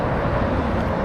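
Blue Angels jets roar somewhere in the distance, a steady broadband rumble that fills the brief moment without any clear rise or fall, with no voices.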